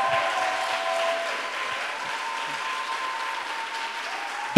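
A church congregation applauds in praise, a steady, dense wash of clapping from many hands that holds evenly throughout before a brief louder burst at the very end.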